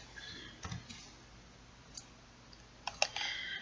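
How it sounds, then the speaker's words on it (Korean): Several faint, sharp computer mouse clicks, including right-clicks, spaced irregularly over quiet background hiss, close to the listener. "오른쪽 마우스 클릭"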